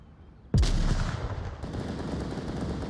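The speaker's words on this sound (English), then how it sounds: "Throws a nade, does not go where he wants it to be." A grenade blast from the VR shooter Onward goes off suddenly and loud at close range, a sharp boom with a rumbling tail that keeps going under steady battle noise for the remaining couple of seconds.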